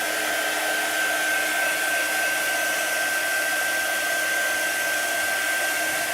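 A heat tool blows steadily over a Chalk Couture transfer project, giving a constant, loud whirring hiss with a thin high whine that never changes and no other sounds.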